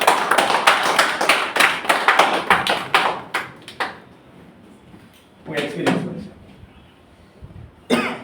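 An audience at a stage event claps loudly to welcome a guest speaker, the dense clapping lasting a few seconds and then breaking into scattered claps, coughs and short bursts amid murmuring voices.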